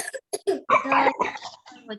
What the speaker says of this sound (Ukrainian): ти кашляєш, да?